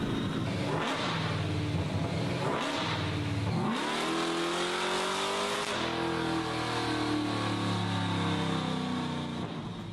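A car on a dyno revs hard, engine pitch climbing in repeated pulls and then holding a high sustained drone, loud and continuous with no talk.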